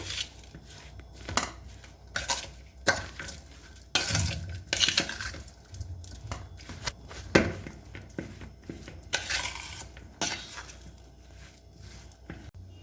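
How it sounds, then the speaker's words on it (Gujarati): Potato filling for stuffed bread rolls being mixed in a bowl with a utensil, giving repeated close scraping and clinking knocks in an irregular rhythm, moderately quiet with no talk. "હવે આ બધું આપણે મિક્સ કરી દઈશું।"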